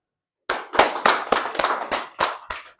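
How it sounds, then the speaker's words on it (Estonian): Starting after a brief silence, a small group claps in a loose, slow rhythm of about nine distinct, close claps. "Kui meeldis, teeme aplausi."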